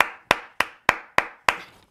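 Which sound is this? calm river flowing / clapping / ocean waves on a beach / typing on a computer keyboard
clapping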